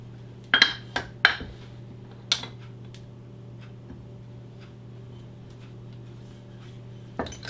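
Keto chocolate cream pie ingredients being mixed in a bowl: a few sharp clinks and taps of a utensil against the bowl, clustered early then one late, close and fairly quiet over a steady low hum.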